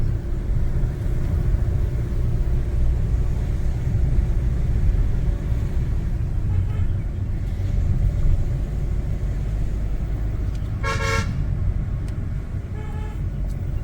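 Two Hyundai vehicles drive together on a hill road toward Panchalimedu, their engines a steady low rumble close by, with a short burst of horn toots near the end.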